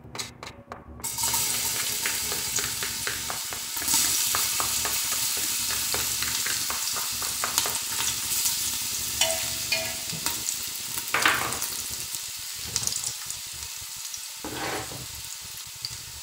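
Garlic frying in melted pork lard in a pan for a white bean stew with pork ribs and calabresa sausage, a steady close sizzle with occasional stirring scrapes, alone without talk.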